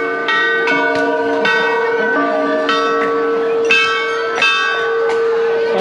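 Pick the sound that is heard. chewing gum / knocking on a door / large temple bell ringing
large temple bell ringing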